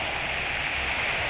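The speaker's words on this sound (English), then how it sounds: "Okay, it's acid rain." Acid rain in the Roblox game Natural Disasters Survival pours as a steady, dense hiss of rainfall on surfaces, continuous and fairly loud, with no talking.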